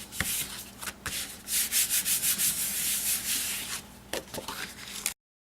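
Hand rubbing paper firmly onto a standard A2 card base, a steady dry scraping swish repeated in quick strokes, close and fairly quiet, then stopping abruptly.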